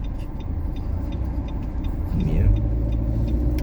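A car passes through a street intersection while a pedestrian waits at the crossing, its steady road rumble swelling briefly as it goes by, with a single short spoken word near the end.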